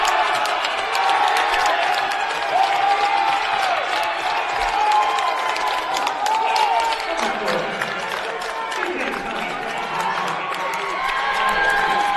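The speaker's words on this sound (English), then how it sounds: "Applause both for Killeen" A basketball arena crowd gives steady applause and cheering as player Killeen fouls out, a broad sustained wash of clapping and voices filling the hall at even loudness throughout.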